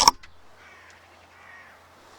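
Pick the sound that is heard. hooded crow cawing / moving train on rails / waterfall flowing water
hooded crow cawing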